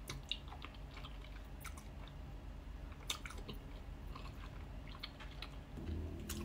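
Someone chews spicy tteokbokki rice cakes close to the mic, with soft, wet, squishy bites and irregular chewing. There are a few sharper crunches, and a brief low thump comes near the end.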